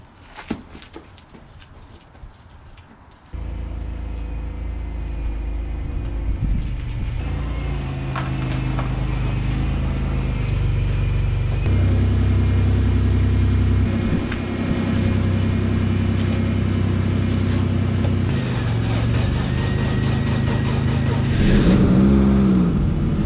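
A BMW E30 engine runs steadily at close range after a quiet start, with a low idle hum that swells into a sustained drone as the car pulls away, and a brief rise in revs near the end.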